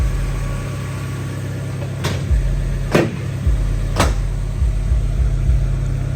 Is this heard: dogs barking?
no